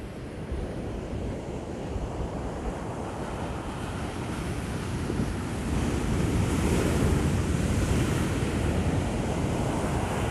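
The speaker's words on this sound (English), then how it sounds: "this is a beach in Benin Republic" Ocean surf rolls onto a beach at Ouidah in Benin Republic, a steady broadband roar of breaking waves mixed with wind buffeting the microphone, growing slightly louder partway through.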